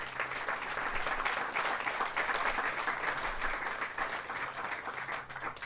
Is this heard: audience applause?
yes